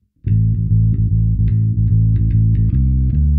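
Electric bass guitar plays the main riff of a song, each note held for its full length so they run legato into one another, loud and close, with no talk.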